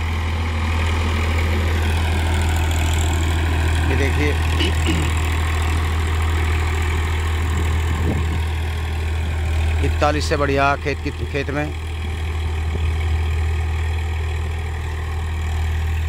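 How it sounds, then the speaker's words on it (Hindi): A 2018 Massey Ferguson 245 DI tractor pulls a harrow through a field under heavy load, its low engine drone steady and loud throughout while someone talks over it. "खेंच पड़ रही है तो ट्रैक्टर लोड नहीं मान रहा, ना चक्कर तोड़ रहा, लगातार स्लिप काट रहा है"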